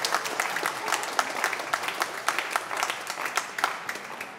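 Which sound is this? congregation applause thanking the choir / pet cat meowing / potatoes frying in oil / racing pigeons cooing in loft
congregation applause thanking the choir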